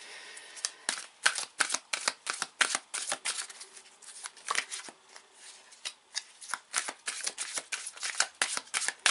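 Tarot cards being shuffled by hand during a reading, a long run of crisp, rapid riffling flutters in quick bursts, close and fairly loud, with no voice over them.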